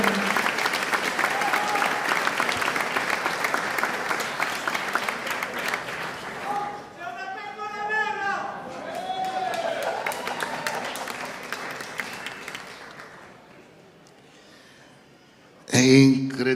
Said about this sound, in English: a big applause for the Best Pizza Chef